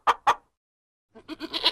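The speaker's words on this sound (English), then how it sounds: "And look, there are goats." Farm goats bleat close by, two short sharp calls, a pause, then a longer wavering bleat.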